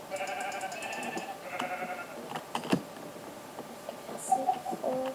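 Sheep in a video game bleat several times in a row, short nasal repeated cries over a soft background, with a few clicks and taps mixed in.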